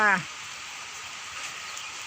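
Rain falls steadily outdoors as an even, continuous hiss. A brief voice is heard right at the start.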